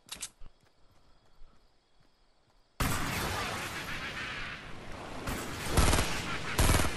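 Gunfire in Fortnite Battle Royale: a few quick shots at the start, then a loud, dense stretch of rapid firing with heavier bursts near the end, close and dominant.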